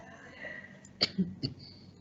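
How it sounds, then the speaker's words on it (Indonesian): A short, close cough, two or three quick bursts around the one-second mark, with a quiet room tone before and after. "maaf saya batuk dikit"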